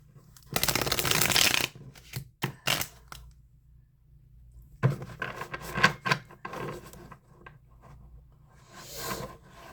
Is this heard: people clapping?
no